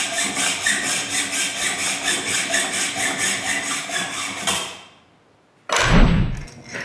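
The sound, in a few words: cutting threaded rod to length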